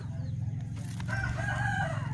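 Rooster crowing among a flock of chickens at an outdoor rural spot, a drawn-out crow rising over steady low engine-like hum and clucking, fairly close and clear.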